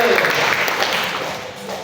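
A church congregation applauds during a Sunday sermon, a dense wash of many hands clapping at once that stays fairly loud and steady before easing slightly toward the end.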